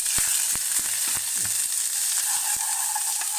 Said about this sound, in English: In goes our garlic. And we're just going to gently fry this off.